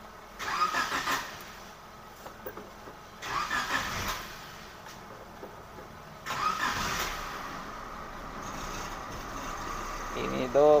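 A Suzuki Katana engine cranks three times in separate bursts, each churning attempt stopping before it catches, with a brief voice near the end.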